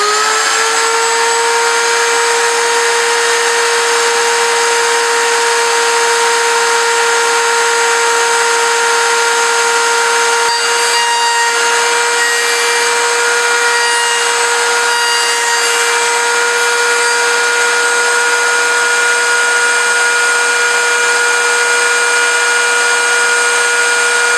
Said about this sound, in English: So let's get the router turned on.